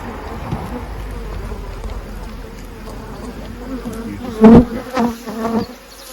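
A dense hum of many honey bees in an open hive drones steadily up close, with a few louder bumps and clatters near the end.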